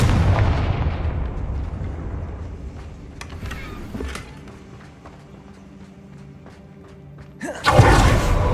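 Confringo fire spell cast in Hogwarts Legacy, a deep booming blast that fades into a long low rumble, then a second sharp burst near the end, with no talk.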